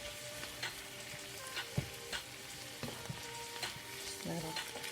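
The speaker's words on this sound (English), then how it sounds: "Saute your peeled shrimp in a separate pan." Peeled shrimp sauté in a separate pan, a quiet, steady sizzle broken by small ticks and clicks of the spatula. No voices are heard.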